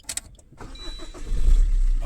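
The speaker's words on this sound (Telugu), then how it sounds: "ఇప్పుడు ఒక్కసారి ఇంజన్ సౌండ్తో సహా మీకు అన్నీ చూపిస్తా, చూసుకోవచ్చండి. ఇది పుష్ బటన్ స్టార్ట్ ఇది" A 2017 Maruti Suzuki S-Cross Zeta is push-button started: after a few short clicks the starter cranks briefly and the engine catches, rising into a close, steady idle rumble.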